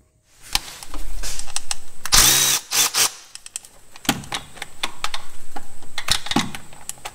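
A power tool zips out 14 mm bolts from a Honda 3.5L V6 motor mount in loud repeated bursts, with one long whirring run and several short pulses, alone and close.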